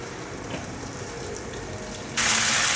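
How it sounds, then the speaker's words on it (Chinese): Dried tofu hits hot oil in a pan for stir-frying, giving a soft, steady hiss that suddenly swells into a louder, brighter sizzle near the end. "放入豆干炒香。"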